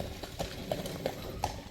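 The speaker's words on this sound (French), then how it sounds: "Il y a le gars avec son cheval, petite calèche." A horse pulling a small carriage trots along, its hooves clip-clopping in a quick steady rhythm over a rumbling engine and road noise.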